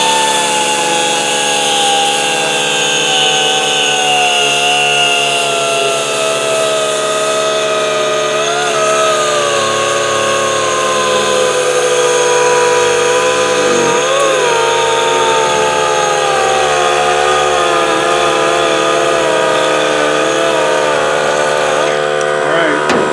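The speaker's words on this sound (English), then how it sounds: "Let's see how long we can run this thing for." A cheap 2-inch mini orbital air sander runs continuously on compressed air from a compressor charged to 100 PSI, giving a loud, steady high-pitched whine with shifting tones as the pressure slowly drops.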